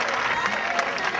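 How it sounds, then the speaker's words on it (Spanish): A church congregation applauding during a sermon, a steady burst of clapping and crowd noise heard briefly and fairly loud. "dale un aplauso a Dios."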